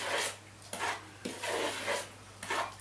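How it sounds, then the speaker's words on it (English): Spoon folding Millie's-style cookie dough in a bowl, stirring and cutting: soft rhythmic scraping and rubbing strokes, about six in under three seconds, close and quiet with no talk. "they're asking you to fold this in, which means stirring and cutting, stirring and cutting"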